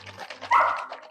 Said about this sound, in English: What's he barking about?